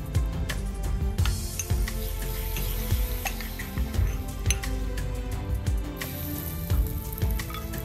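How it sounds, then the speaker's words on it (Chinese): Hot oil ladled spoonful by spoonful onto chili powder, giving a crackling sizzle over and over, mixed with sharp metallic clinks of the ladle against the bowl. "用一个大勺一勺一勺地将热油浇到辣椒面上"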